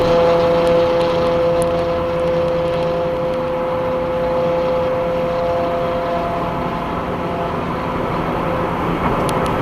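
Road noise from a loud car driving ahead on the road, a steady engine drone and tire roar that stays constant throughout with no talking.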